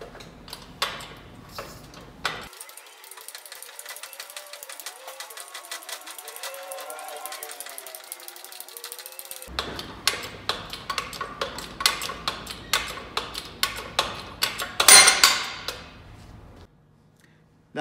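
A bend test jig for welding test specimens is worked by pumping the handle of a bottle jack, giving a steady run of rapid mechanical ticking and rattling that grows louder and more clattery toward the end, with a sharp metallic burst near the finish.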